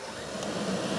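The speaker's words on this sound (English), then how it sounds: "Now I'll do the same test on this vacuum." A robot vacuum runs steadily close by with a continuous whirring hum of motor and brushes, level and unbroken throughout with no talking.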